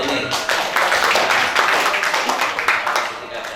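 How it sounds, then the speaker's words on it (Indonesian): Dense audience applause fills a hall at the annual members' meeting of the KSPPS BMT NU Kediri cooperative, a steady wash of many hands clapping close by for the whole stretch before easing slightly at the end. "tepuk tangan untuk ini"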